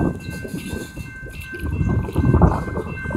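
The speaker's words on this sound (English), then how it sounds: "Train's moving through now." BNSF intermodal freight train passing a road crossing, a loud rumble of rolling wagons that grows stronger, with a steady bell-like tone from the crossing ringing over it.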